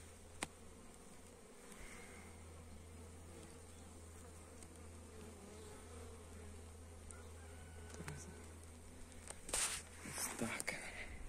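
Honeybees flying in to a hive carrying hazel pollen in early spring, a continuous close buzzing drone of many insects with a few louder passes near the end, no talking.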